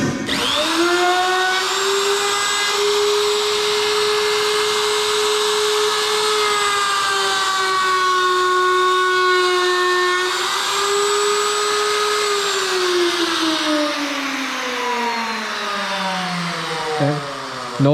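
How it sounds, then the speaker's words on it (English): A handheld router whines loudly and steadily as it cuts the edge of a wooden coffee table top, its pitch dipping slightly under load and then winding down near the end. "that's routering"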